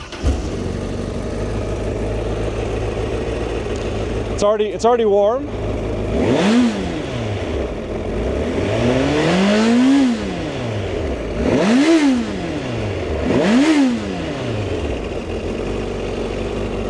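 A Honda CBR1000RR SP superbike engine with stock exhaust fires up after a brief starter whir, then revs sharply three times with falling idle between, close and loud, with a short spoken remark at the start.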